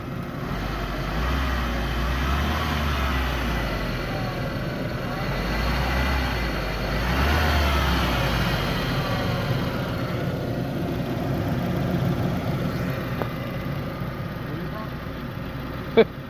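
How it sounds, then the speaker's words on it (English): A Mk4 Volkswagen Golf GTI 1.8T engine, freshly fitted with a new timing belt and water pump, runs close by with a low steady drone and a couple of slow swells as it is revved, ending with a brief click. "Rev it up a little bit."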